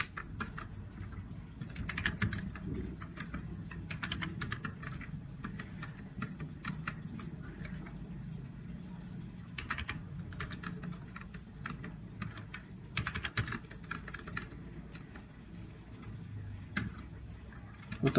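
Commands are typed on a computer keyboard in a command prompt to run a small Python number-conversion program. Close, continuous clicking comes in quick irregular bursts with short pauses, and no one speaks.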